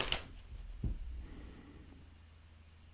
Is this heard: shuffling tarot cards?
yes